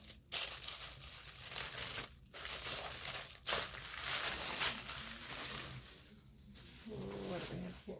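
Christmas gift package being unwrapped, paper crinkling and tearing with loose tape in steady rustling bursts up close, a voice speaking briefly near the end.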